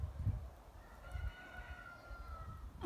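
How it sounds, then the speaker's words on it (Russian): A faint, distant rooster crow stretches out in a single drawn call over quiet low rumbling background noise. "Вот и петухи мне помогают."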